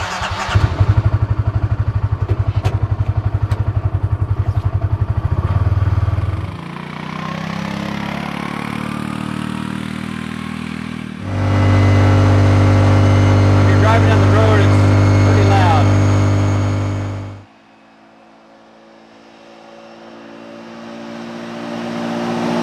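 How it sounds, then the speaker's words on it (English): A Kawasaki Mule Pro MX EPS side-by-side UTV drives on the road, its engine droning and rising in pitch as the transmission gives off a high whine, with changes in load between stretches and a quieter idle at the end. "You do get an awful lot of noise going on the road, mostly from the transmission or the transaxle."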